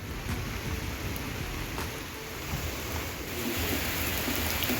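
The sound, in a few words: heavy rain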